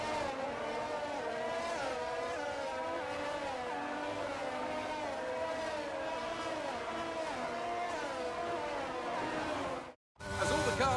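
Formula 1 cars in the F1 22 racing game roll around a formation lap ahead of a sprint at the Emilia Romagna Grand Prix, several engines droning and shifting pitch together in a steady layered whine that cuts out briefly near the end.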